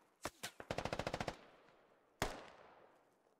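Automatic rifle fire in the military shooter game Squad: two single shots, then a rapid burst of about eight rounds with a ringing tail, and after a pause one more loud crack.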